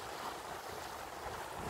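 Strong wind blowing at an open outdoor spot, a steady loud rushing roar that buffets the microphone, with surf-like broadband noise and no talking.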